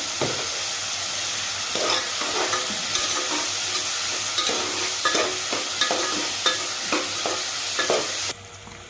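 Onions fry with salt in a pan for chicken drumstick curry, giving a steady close sizzle broken by repeated scraping stirs of a spoon against the pan, before the sizzle drops away at the end.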